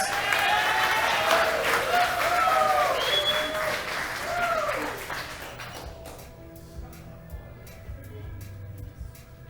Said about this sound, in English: Give Headless Wizards a round of applause.